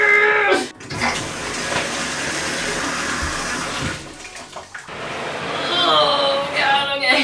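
Tap water pours steadily into a bucket of black fabric dye, a rushing broadband stream running for several seconds near the mic, with a brief voice and handling noises at the start and again near the end.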